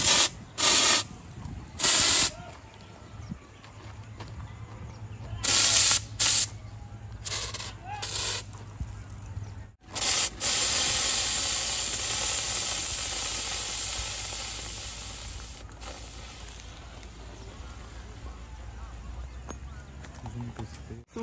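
A Kung Fu Thunder Holi colour firework spraying coloured powder: a short sequence of sharp spurting bursts, then a sustained loud hiss that slowly fades, heard outdoors at close range with some talk over it.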